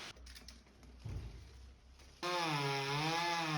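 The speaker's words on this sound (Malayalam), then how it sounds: "അങ്ങനെ രണ്ടാമത്തെ തെങ്ങ് കട്ട് ചെയ്യാൻ തുടങ്ങി." After two seconds of quiet outdoor rustling and a soft thud, a chainsaw cutting a coconut tree in Kerala suddenly roars to life, a loud, close, sustained buzzing engine whine that wavers slightly in pitch.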